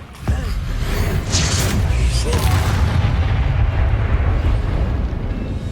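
An Incendio fire spell cast in Hogwarts Legacy, a loud fiery blast that erupts and roars into a sustained rumbling burst, close and dense, with game effects layered throughout.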